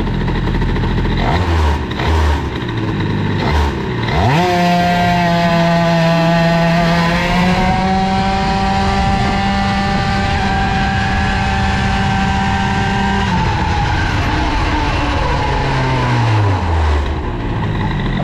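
A moped fitted with an Airsal XT 77 kit and a boosted crankcase pulls away from a stop, its buzzing two-stroke engine note climbing quickly, holding a high, loud whine, then falling back as it slows.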